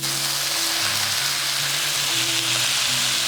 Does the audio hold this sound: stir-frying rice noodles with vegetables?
yes